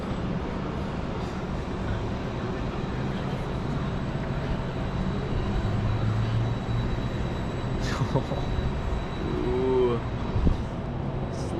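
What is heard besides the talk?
Tundra Twister roller coaster ride at Canada's Wonderland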